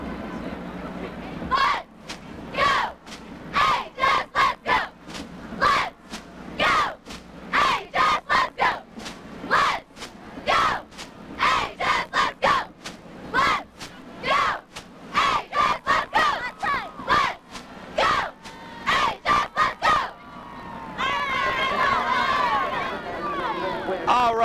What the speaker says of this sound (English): So go ahead and take us away with the cheer, Pioneer cheerleaders.